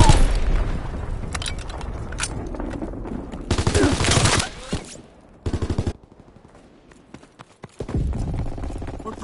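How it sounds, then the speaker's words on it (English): Bomb blasts and gunfire in a war video game: loud bursts of automatic fire and heavy booms come in uneven clusters with short quiet gaps, close and intense. "Enemy bomb incoming! Get to cover!"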